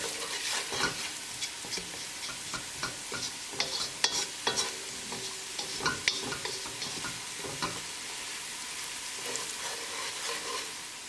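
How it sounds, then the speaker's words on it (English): Spices frying with an onion tadka in a pan, a steady sizzle with scraping stir strokes and light ticking clinks of a spoon against the pan throughout, close and fairly loud, no voices. "Cook spices along with tadka for 1 minute."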